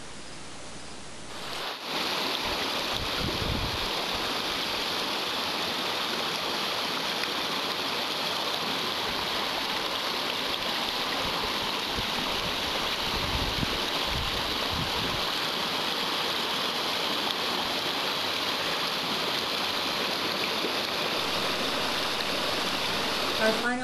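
A waterfall at the end of a hike in a clay-walled canyon near the La Sal Mountains pours in a steady, loud, broadband roar that holds unbroken throughout.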